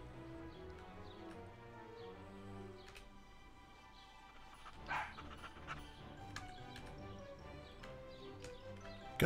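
A dog barks in a Nancy Drew resort mystery video game, with a few sharp barks over a looping game soundtrack, moderately close and without talk.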